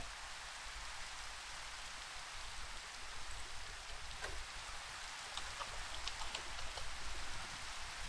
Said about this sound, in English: come on, let's stop that rain now